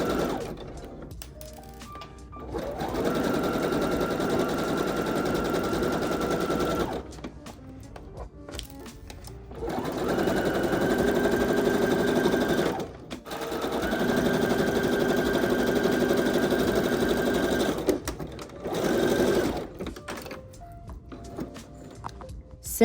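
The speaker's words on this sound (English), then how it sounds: "I'm continuing to sew the side seams" Sewing machine stitching the side seams of a cropped top, running in several long bursts of rapid whirring separated by short pauses and handling noises.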